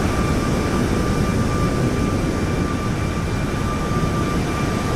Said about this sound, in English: Are the engines loud?